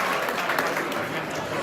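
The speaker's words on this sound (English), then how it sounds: "Give yourselves a round of applause." A convention-center crowd at a political candidate event applauds in a brief, steady burst of clapping that stays even throughout.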